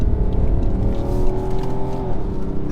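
A 2017 BMW X5 M50d engine revs up hard and climbs steadily in pitch, loud and close, with a brief dip near the end as the gear shifts.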